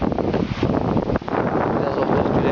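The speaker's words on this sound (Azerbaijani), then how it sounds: "Biraz külək qaldı." Gusty wind at a seashore campsite beside a pitched tent buffets the microphone with a loud, rumbling roar that dips briefly midway, then surges on.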